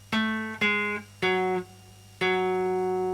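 Four plucked bass guitar notes on a low string from a song's bass line, each struck with a short staccato note before a sustained one, ringing clearly with no voices.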